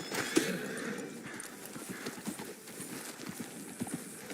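Horse hooves clip-clopping in the video game Red Dead Redemption 2, a quiet steady rhythm of footfalls with a brief whinny near the start and a faint ambient background.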